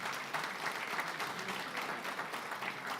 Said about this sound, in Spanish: Dale un aplauso al Señor, por favor, en esta tarde.